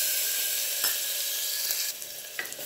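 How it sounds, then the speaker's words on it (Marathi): Finely chopped green chili and garlic sizzle in hot oil inside a pressure cooker, a bright steady hiss close by that thins slightly toward the end with a few soft stirring knocks. "इथं हिरवी मिरची आणि लसूण असं बारीक करून घेतलेलं तेलामध्ये टाकायचं।"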